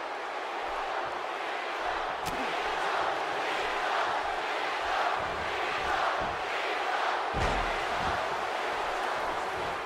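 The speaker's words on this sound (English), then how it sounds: "Crowds behind Cena, they want him to win." A wrestling arena crowd in WWE 2K18 roars steadily in support of John Cena, a broad sustained cheer filling the space with a few sharp thuds mixed in, moderately loud throughout.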